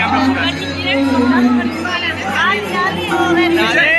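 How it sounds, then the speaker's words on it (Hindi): A dense crowd of devotees at the Radha Vallabh temple in Vrindavan, India, a loud close babble of many overlapping voices with a steady low hum beneath. "आप देख सकते हैं क्या भीड़ देखिए, कितनी भीड़ है यहाँ पे"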